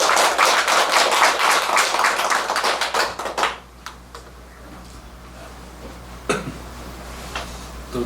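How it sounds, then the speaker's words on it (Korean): Audience applause welcoming a monk at a Buddhist meditation course closing ceremony, loud, fast, close clapping for about three seconds that stops abruptly, followed by a few isolated claps and soft room noise. "큰 박수로 스님 맞으시죠"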